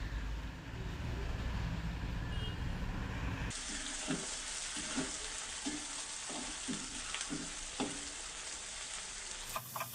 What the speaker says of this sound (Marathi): आता हे सर्व साहित्य आहे ते पुन्हा एकदा आपल्याला छान प्रकारे मिक्स करून